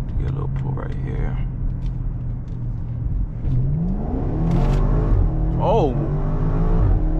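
Tuned BMW X5M with a stage 2 tune accelerating hard on a highway, the engine roaring and rising through the gears with audible shifts, close and loud, with a man's brief exclamation.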